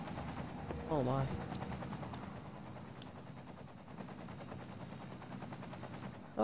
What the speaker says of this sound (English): Helicopters are cool.